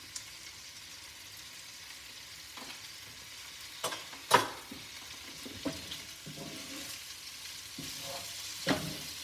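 Boiled chicken tossed with chili powder and curry leaves for a Nellore-style chicken fry, a low steady sizzle broken by sharp spatula scrapes and clacks against the pan, louder knocks near the middle and end.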